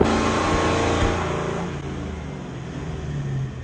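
A Ford Mustang fitted with a Corsa Extreme exhaust roars steadily on a dyno, a loud, dense engine and exhaust note that swells early and then holds at a slightly lower, sustained level.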